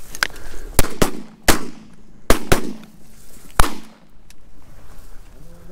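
Shotgun blasts while hunting mallard ducks in a field, about seven sharp, loud reports in irregular succession, some doubled close together, with outdoor ambience between.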